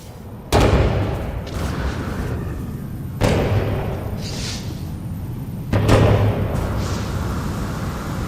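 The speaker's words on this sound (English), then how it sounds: "Another fireworks sound." Fireworks explode in the No Man's Sky video game, three deep booming blasts a few seconds apart, each followed by a crackling, sizzling tail over a rumbling background.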